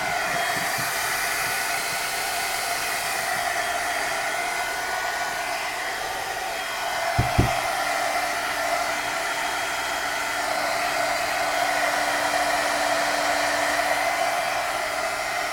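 A hair dryer blows steadily throughout, drying wet paint on an artwork, a constant loud airy whoosh with a brief knock partway through.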